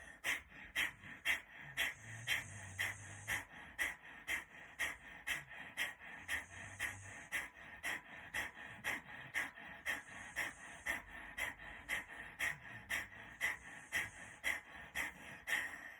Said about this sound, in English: to sniff that air out of the nose as we do the rounds